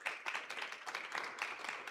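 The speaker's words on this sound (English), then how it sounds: "So big round of applause so they can hear us on the live." An audience at a Brownsville 1 Million Cups event applauds award winners, a steady, soft wash of many hands clapping together with no one speaking over it.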